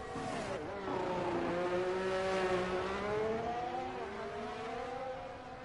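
A McLaren race car engine screams along the track with another car close behind, a loud sustained high-pitched whine that rises and falls with the revs and runs continuously throughout.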